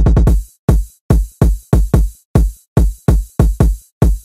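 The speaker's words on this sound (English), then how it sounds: "we add a few more hi-hats and rides" Programmed hi-hats and rides in a reggaeton beat sound as a string of crisp, loud percussive hits in a syncopated pattern, each decaying quickly, with a solid low thump beneath. No voices.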